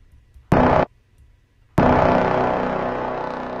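Two bright brass horn stabs from a beat sample, a short one followed by a longer sustained blast that slowly fades, clean and loud.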